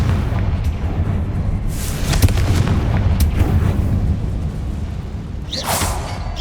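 A Confringo spell explosion in Hogwarts Legacy: a deep, rumbling boom with a couple of sharp bursts over a steady low roar, loud and close, ending in a brief bright crackle.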